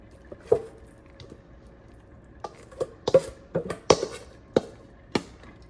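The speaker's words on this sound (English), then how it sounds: "And we're going to pour this in the skillet." Cornbread batter, mixed with eggs, is poured into a skillet, giving soft wet plops and drips spaced out over a few seconds, with a few sharper taps of the utensil against the pan.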